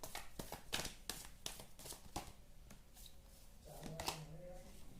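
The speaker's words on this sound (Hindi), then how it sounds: "ओके और कार्ड्स निकालते हैं, देखते हैं क्या आता है।" Tarot cards shuffled and drawn by hand, heard as a quiet series of crisp, papery flicks and snaps spaced irregularly, fairly close.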